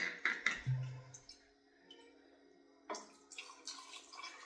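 Kirkland Signature Canadian whiskey is poured into a cup of ice, giving a few sharp ice clicks and clinks followed by a brief trickle of liquid, close and quiet with no talk.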